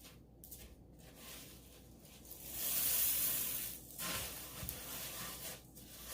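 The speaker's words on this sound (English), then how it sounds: "I'm just going to start stirring that in" Rice Krispies cereal stirred into a pot gives a soft, steady crackling rustle with occasional louder scraping swells, fairly quiet and close.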